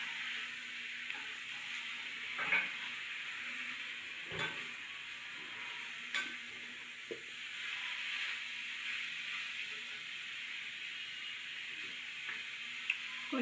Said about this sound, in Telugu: mushroom fry